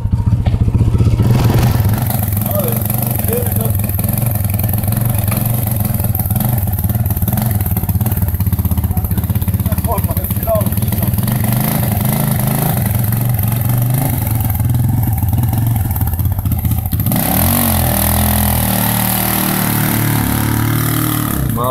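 TGB Blade 525 ATV hauling logs, its engine running steadily and loud with a rough, clattering idle-to-pull tone, revving briefly near the start and again toward the end.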